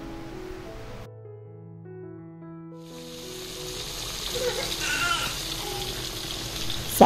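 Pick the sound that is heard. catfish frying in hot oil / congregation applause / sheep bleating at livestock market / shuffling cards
catfish frying in hot oil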